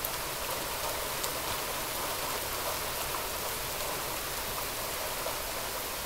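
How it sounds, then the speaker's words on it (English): Steady rain falls outdoors and settles dry dust, a dense, even hiss of drops striking the ground that holds at a constant level for the whole stretch, with no voices. "Look at that rain just settling all that dust."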